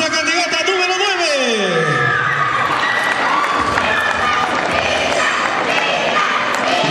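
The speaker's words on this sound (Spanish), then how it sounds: "a recibir con un fuerte aplauso a Hilda Campos Gomán" Audience applause and cheering at a beauty pageant for a candidate in a peacock costume, a dense loud crowd sound across the whole clip, with a voice over a loudspeaker at the start.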